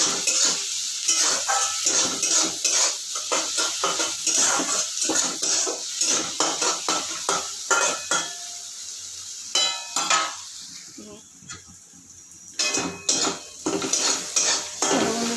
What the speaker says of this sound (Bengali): এবার একটু ভালো করে একটু কষিয়ে নেবো এটাকে।